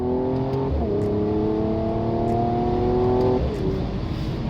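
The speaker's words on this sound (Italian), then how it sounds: "Oggi sono a bordo della Mercedes CLS 53 AMG, un missile terra-aria" A Mercedes-AMG CLS 53 4Matic+ with a turbocharged and supercharged 3-litre inline six pulls hard under acceleration, its loud engine note climbing steadily through the revs with a brief shift dip, heard from inside the car.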